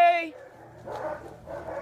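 A dog gives a short high whine at the start, followed by faint scuffling and muffled sounds near a door, while some speech is also present.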